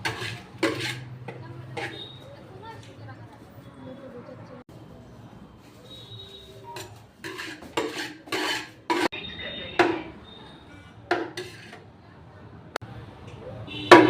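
Metal cooking pots being handled and knocked together at a cookware shop, scattered clangs and clatters under quiet background chatter and a nearby voice.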